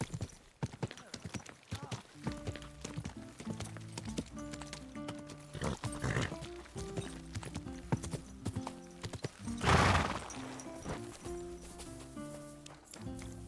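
Horse hooves clip-clop in a steady walking rhythm in Kingdom Come: Deliverance II, close and clear over quiet game music. Near the middle comes a brief louder burst, like a snort or a rustle.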